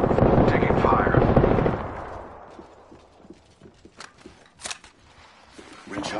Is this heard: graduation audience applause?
no